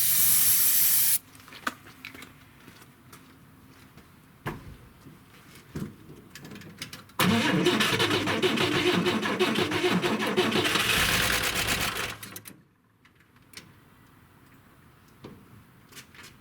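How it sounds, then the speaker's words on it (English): A 1963 Chevrolet Corvair 700 engine sprayed with starting fluid and cranked: a short loud spray hiss, scattered clicks, then several seconds of loud sputtering firing and cranking before it cuts out to quiet. "We're going to spray a little bit down there and see if we can get it started."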